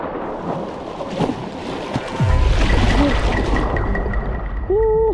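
A jet-powered water flyboard's engine throttles up on open water. A windy, splashing backdrop gives way to a sudden deep, steady roar that holds loud and close, with a brief tonal whine near the end.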